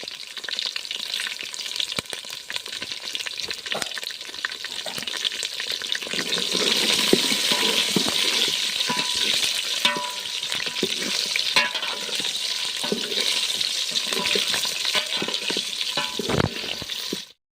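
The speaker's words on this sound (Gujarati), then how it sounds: "થોડી વાર હવે આપણે એને કકડાઈ દઈશું, એમાં નાખી દઈશું મીઠું" Whole garlic cloves sizzle and crackle in hot oil in a pan for a Gujarati garlic sabji, a loud continuous frying hiss with frequent stirring scrapes and clinks near the close; no voices.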